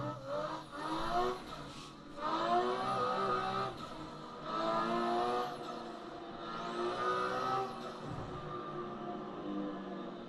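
BMW E92 engine in Assetto Corsa, loud and near, climbing in pitch through several gear shifts in repeated surges, with faint tire squeal.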